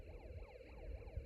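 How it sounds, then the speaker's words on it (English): A warbling electronic siren from a Snap Circuits Extreme SC-750 toy circuit, switched on by a slide switch, rising and falling in quick repeating sweeps, buzzy and distorted at low volume. "When I turn on the slide switch, you hear siren, but sounds distorted."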